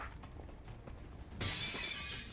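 Glass shatters in the video game XCOM 2 Long War of the Chosen, a sudden bright crash after a quiet stretch, followed by a sustained tinkling spray of shards with no talking.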